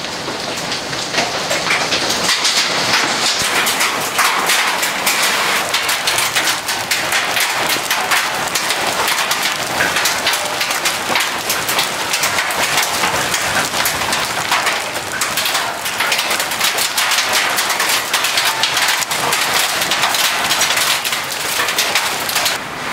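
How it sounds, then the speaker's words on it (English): A hailstorm pelts down outdoors in an alley, a loud, dense, unbroken clatter of countless impacts that holds steady throughout. "Hailstorm."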